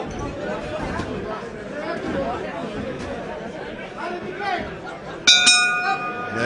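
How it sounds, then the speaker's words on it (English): A boxing bell ends the round at an amateur bout between Western Counties and the Army, ringing out brightly near the end over steady crowd chatter and commentary. "the bell to end the round."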